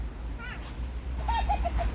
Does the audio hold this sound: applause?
no